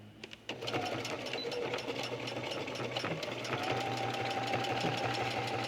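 Sewing machine back stitching through cork fabric, running steadily for several seconds at a close, even, rapid mechanical hum with a continuous motor drone.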